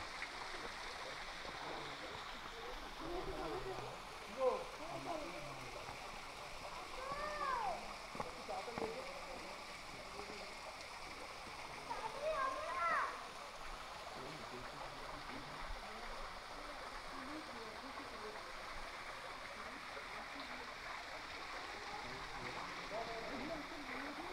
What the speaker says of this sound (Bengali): আমি পৌঁছে গেলাম ধারাগিরি ফলসের একদম সম্মুখে।